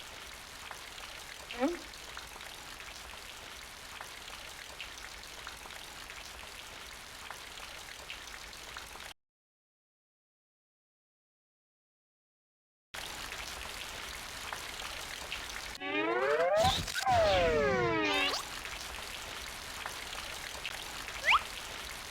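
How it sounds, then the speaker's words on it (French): Steady, close rain in the video game The Pink Panther: Passport to Peril hisses and patters, then cuts out completely for a few seconds before returning, with a swooping sweep of sound near the end. "Bye bye la pluie."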